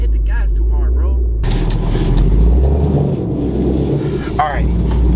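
A heavily squatted lifted GMC truck's engine roars loud and close as the throttle is hit hard, a sustained low rumble surging under occasional voices.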